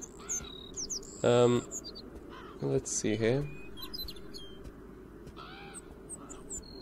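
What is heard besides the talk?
little bird chirping in Beyond Eyes video game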